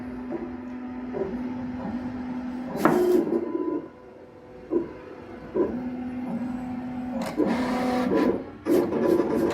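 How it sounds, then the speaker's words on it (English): A Summa vinyl cutter runs a steady mechanical whir while scanning registration marks, with the carriage stopping and restarting in several motor passes and short clicks and slides between them, close and fairly quiet. "We're just scanning our registration marks right now so the cutter knows exactly where to cut."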